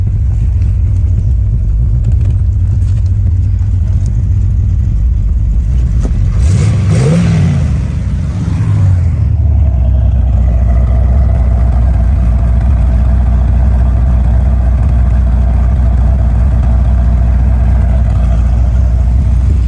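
A Corvette engine rumbles loudly at idle, then revs up and settles back into a deep, steady growl, close by and continuous.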